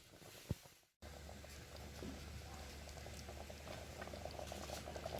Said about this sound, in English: it's simmering down to gravy